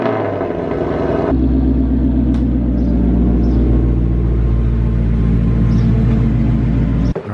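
A Ford Mustang's engine fires up and idles with a deep, steady rumble, then moves off under light throttle, loud and close, with no talk over it.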